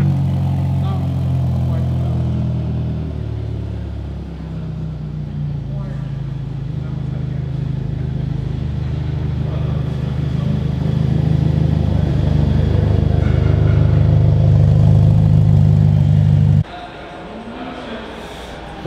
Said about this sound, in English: this has a new and improved sports exhaust over the regular Portofino. I didn't think it would be this loud.